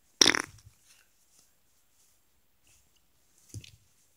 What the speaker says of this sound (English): I'll fart my way in there.